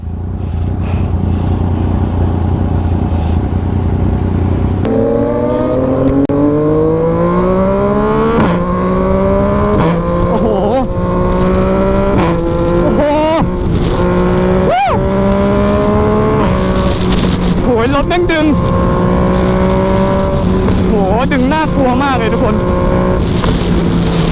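A Yamaha MT-09 with traction control off revs hard and climbs through quick, clipped quickshifter gear changes, each shift cutting briefly before the pitch rises again; loud and close throughout.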